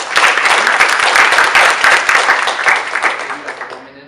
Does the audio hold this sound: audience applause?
yes